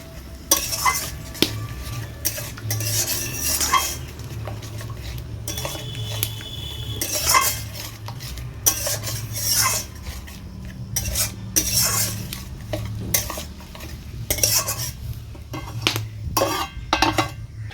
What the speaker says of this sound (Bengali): সব কিছু ভালো করে মিশিয়ে নিচ্ছি।